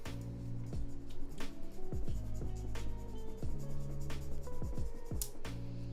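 A file scrapes back and forth on a mechanical keyboard switch during a Kinetic Labs Husky switch build, a faint rubbing rasp set under quiet background music.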